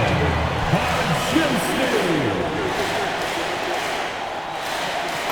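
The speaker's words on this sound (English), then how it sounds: "And the crowd now is in a frenzy." A crowd roars during an NBA 2K26 basketball game, a broad, sustained cheer with faint shoe squeaks beneath it.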